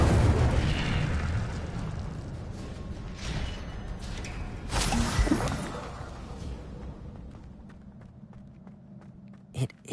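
Levioso and Incendio spells cast in Hogwarts Legacy give a rushing, whooshing burst with booming fiery roars that swell, fade out and end on a sharp pop, all heavy and close.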